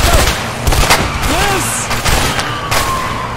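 Police gunfire in the video game A Way Out: rapid overlapping shots crackle loudly through a chaotic scene, joined by a siren-like tone and other game noise.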